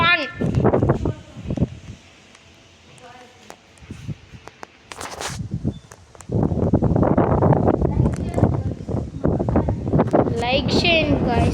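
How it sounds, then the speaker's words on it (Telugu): Strong storm wind gusts outdoors in a steady broadband rush that swells and fades, with people talking over it for much of the time. "ఆగట్లేదు గాయ్స్, అసలు గాలి ఆగట్లా."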